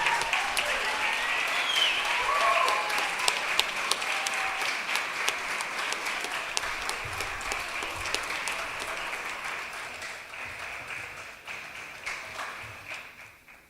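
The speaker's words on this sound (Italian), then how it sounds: "Facciamo un applauso." A church congregation gives sustained applause during an evangelical worship service in Verona, a steady, dense patter of many hands that carries on for a long stretch and slowly fades toward the end.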